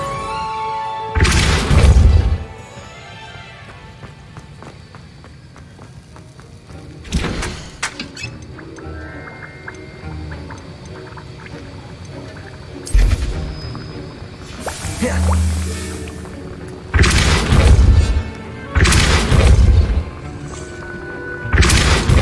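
Casting the Depulso spell in Hogwarts Legacy gives about six short, loud booming bursts spaced irregularly, with quieter in-game ambience between them.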